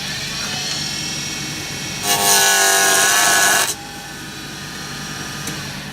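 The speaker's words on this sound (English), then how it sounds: "So I just took my spindle roughing gouge and put a little mark there so I know where it is." A spindle roughing gouge cuts into wood spinning on a lathe, giving a bright, loud scraping burst of about a second and a half that rises above the steady hum of the running machine.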